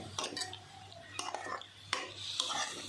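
Soybean veg biryani with coriander paste being stirred in a pot, with repeated scraping and clinking of a spoon against metal in uneven strokes, close and moderately loud over a low steady background hum.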